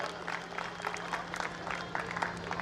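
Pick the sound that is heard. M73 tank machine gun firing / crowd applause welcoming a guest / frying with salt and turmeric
crowd applause welcoming a guest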